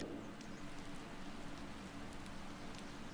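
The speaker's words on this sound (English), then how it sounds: "Supposed to rain for the race, and it appears that it is." Steady soft hiss of rain falling during a Motorsport Manager race at Munich, a continuous, even wash of drops with no breaks, fairly quiet and diffuse.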